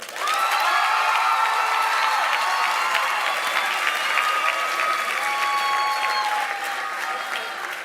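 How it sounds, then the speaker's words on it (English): A high school graduation audience in a school auditorium in Jeddah breaks into steady, full applause with some cheering, loud and sustained, while tonal music or sustained notes ring underneath. "So let's give a round of applause and a warm welcome for Aminata Diallo."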